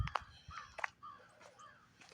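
Crows cawing outdoors during a Deep South snowstorm, several harsh caws in an irregular series, moderately near but fairly quiet, with no talking.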